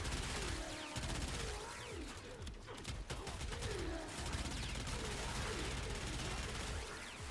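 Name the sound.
explosions and gunfire, from the video game Warframe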